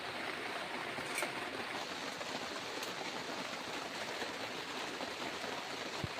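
Heavy rain falls in the Maredumilli forest, a constant even hiss spread evenly from start to finish, with a couple of faint isolated clicks and no voices.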